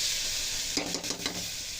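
Onions frying in a pan for a Telugu bottle gourd and tomato curry give a steady close sizzle, with a short burst of stirring scrapes partway through.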